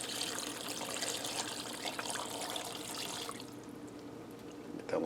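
Five cups of beef broth pouring into a pressure cooker for German beef and vegetable soup, a steady close splashing stream that stops abruptly near the end.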